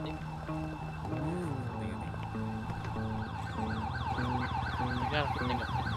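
An ambulance siren in the GTA V video game wails in rising and falling sweeps, loud and continuous, layered over other in-game tones.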